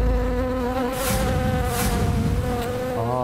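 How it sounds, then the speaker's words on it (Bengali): Bees buzz steadily around a large beehive, a dense continuous droning swarm that stays loud and close throughout with no talking. "কত বড় মৌচাক দেখেছিস?"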